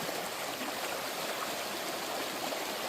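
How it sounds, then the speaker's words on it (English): A creek runs down and pushes against its bank in remote Alaska, making a steady, full rushing and gurgling wash that stays even and close throughout with no voices. "the creek runs down and it hits against that bank there"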